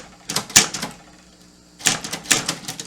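Keys strike on a Brother Deluxe manual typewriter in two quick bursts of sharp clacks, close and crisp, separated by a brief quiet pause.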